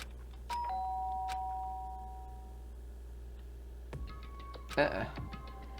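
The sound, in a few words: doorbell ringing in the video game Danganronpa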